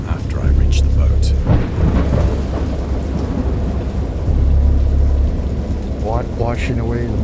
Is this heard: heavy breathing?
no